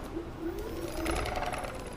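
The motor of a Kaabo Wolf X electric scooter runs with a steady electric whine and buzzing hum, close and continuous for a couple of seconds without speech.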